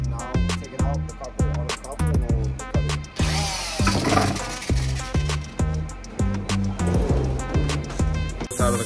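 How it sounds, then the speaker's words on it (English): A power drill winds 24 karat gold wire around copper to form chain links, whirring in short, repeated bursts with brief pauses between them, close and fairly loud. "I'm gonna get ready to roll up the 24 karat wire into links using this copper and the drill."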